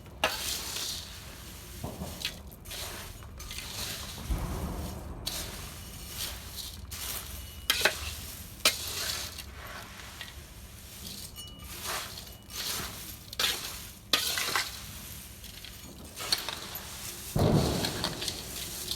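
Puffed rice chivda being mixed with turmeric and spices, a dry rustling and crunching that comes in repeated irregular strokes, with several louder scraping bursts. It is close and fairly loud, and there is no talk.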